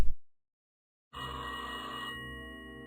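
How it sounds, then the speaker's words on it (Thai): A telephone rings in the puzzle game Rusty Lake Hotel, a single bright, bell-like electronic ring that starts abruptly after a brief silence, rings clearly and then decays. "มีโทรศัพท์มาครับ"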